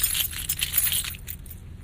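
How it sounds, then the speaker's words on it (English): Keys jangle and clink steadily in the left ear, a close, bright metallic jingle that fades slightly toward the end, captured as a 3D binaural recording with Sennheiser Ambeo. "So in my left ear, you should hear keys jingling."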